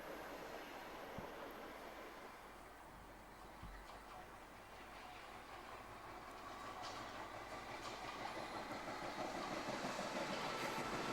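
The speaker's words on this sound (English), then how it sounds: "Must be a through train or going back to the depot or something." A 1990s Merseyrail train rolls steadily through a station without stopping, a continuous rumble and faint rail clatter growing slightly louder toward the end; no one speaks.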